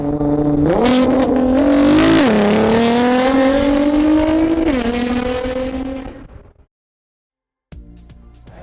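A Liberty Walk Nissan GT-R drives by loudly, its engine revving up in strong rising and falling pulls before it cuts off and fades. A quieter low rumble follows after a brief gap.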